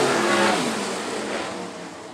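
Sprint car engines roar around a dirt track at the American Sprint Car Series, a loud, harsh blast that fades slightly as the cars pass.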